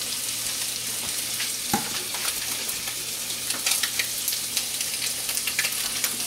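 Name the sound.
crab cakes frying in oil in a pan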